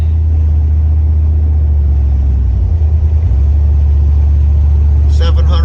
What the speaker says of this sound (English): Here we go in our 1991 Buick Roadmaster, small block Chevy 305.